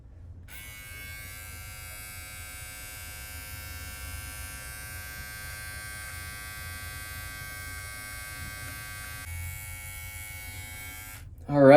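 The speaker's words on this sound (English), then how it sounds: "this trimmer and start to trim our beard" A cordless rechargeable 5-in-1 electric beard trimmer cutting stubble from a man's face, giving a steady close buzzing drone with a constant motor tone that runs nearly the whole time and stops abruptly at the end.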